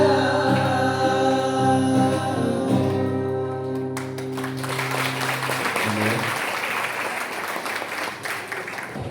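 Audience at a Christian women's empowerment workshop applauds a praise band: steady, dense clapping swells in and continues for several seconds as the band's sustained music fades out.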